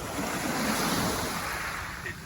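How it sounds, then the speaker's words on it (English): Ocean waves crash and wash continuously near beachside rooms in Oslob, Cebu, Philippines, a loud, dense roar of surf mixed with wind buffeting the microphone. "The waves crashing that you hear, probably the most noise that you hear in these rooms"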